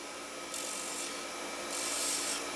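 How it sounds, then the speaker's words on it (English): A spindle gouge cuts a water flask spun on a wood lathe at about 2,800 rpm. Two faint, soft hissing cuts rise over a low, steady hum. "I will need the spindle gouge to get those nice clean cuts for the fillets."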